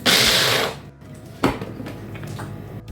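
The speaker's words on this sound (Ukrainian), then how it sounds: "І тепер перекручуємо на блендері," A blender whirs loudly for under a second while chopping dill, parsley and garlic, then stops, followed by clattering and knocking of a container.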